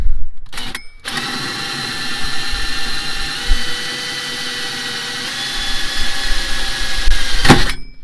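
A power drill with a sharp bit whines steadily at close range for several seconds, drilling into a Jaguar XF while fitting a tow bar, briefly stopping near the start, then grinds through with a sharp burst before falling quiet.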